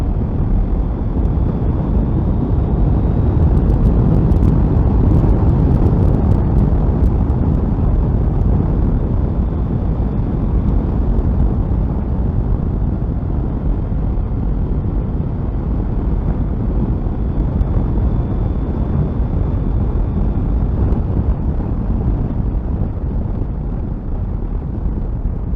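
A 2022 KTM 890 Adventure motorcycle accelerates hard to overtake, its engine drone heavy and continuous throughout, mixed with strong wind buffeting at the rider's microphone.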